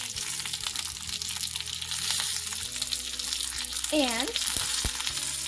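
Garlic and curry leaves fry in hot oil in a pan, a loud, steady sizzle as coriander powder is added and stirred, with a brief word of speech and a short tonal squeak over it.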